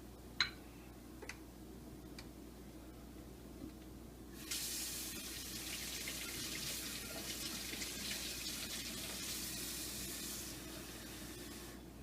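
Warm water poured onto dry yeast for a homemade white loaf: a few faint clicks, then a steady, soft, hissing pour that runs for several seconds without any talk.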